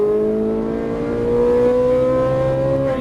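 Ferrari 458 Italia V8 engine on a track, a loud, steady, close drone whose pitch climbs slowly as the car accelerates, with no voices over it.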